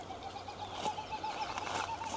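Wild birds calling along a hillside trail near St. Anthony, Newfoundland: a repeated run of short, even-spaced tonal calls at moderate distance over a steady outdoor hiss, with no talking.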